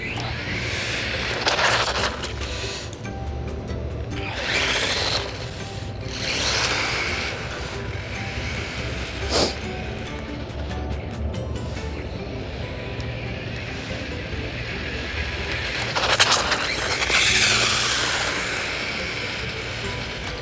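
A brushless electric motor in a vehicle runs steadily for a long stretch, with whirring and surging passes and a sharp click partway through, close and fairly loud.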